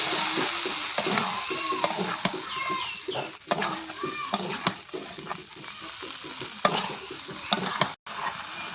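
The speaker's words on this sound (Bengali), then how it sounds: "গুঁড়ো মশলাগুলো যাতে পুড়ে না যায় একদম মিক্স করে নেব ভালো করে সবগুলোকে কষে নেবো" Ground spices being stir-fried with taro in a pan with a little water, repeated scraping and clattering stirs over a low sizzle, with chickens clucking faintly in the background.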